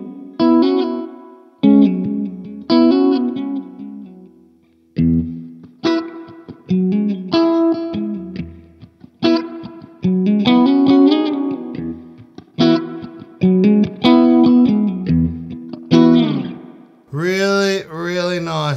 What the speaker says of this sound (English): that reverb is from a Secret Path pedal